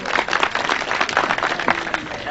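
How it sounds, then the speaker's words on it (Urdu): An audience at a Punjabi poetry gathering breaks into dense, lively applause, a close, steady burst of many hands clapping with voices under it. "انہاں دے نام دی ایک تالی لا دیو جی"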